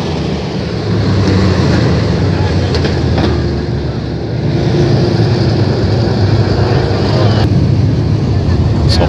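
Race cars run under caution at Flomaton Speedway, their engines a loud, continuous roar with a slight swell midway, while an announcer speaks over the noise.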